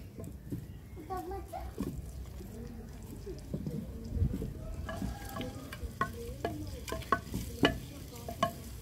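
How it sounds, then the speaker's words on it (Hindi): Chilies sizzling in hot oil while being stirred for a halwa puri cholay breakfast, with a soft steady fry and clinks of a spoon against the pan, under intermittent talking and background chatter. "उसी ऑयल में अब मिर्चें शामिल करेंगे।"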